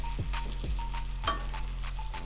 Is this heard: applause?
no